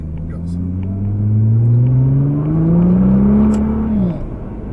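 A Nissan GTR accelerating on a track from inside the cabin, engine note rising steadily in pitch through a long pull, then easing off, with a voice over the engine.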